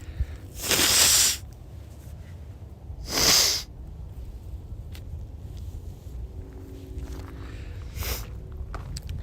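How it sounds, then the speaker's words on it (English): Two loud, breathy nose blows close to the microphone, one after another, followed by quiet outdoor background and a faint third blow. "I'm going to blow my nose out again."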